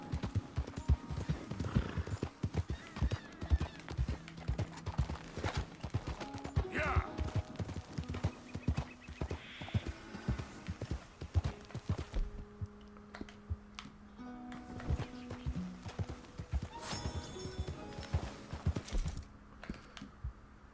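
A horse gallops in Red Dead Redemption 2, its hooves clip-clopping in a quick steady rhythm, with a neigh partway through and game voices speaking over the hoofbeats.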